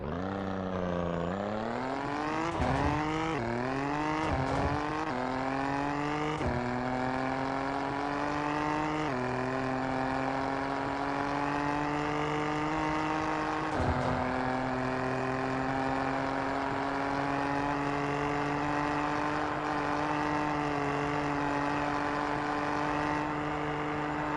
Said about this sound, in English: a fast four-wheel drive car with cool spotties on the front